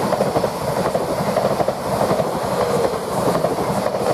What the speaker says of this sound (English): We've got a fast train coming from here from Norwich towards London Liverpool Street